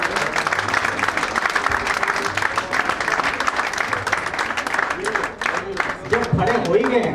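A standing audience at a party workers' training camp applauds with dense, continuous clapping that fills the room, loud and sustained, with a few voices calling out beneath it.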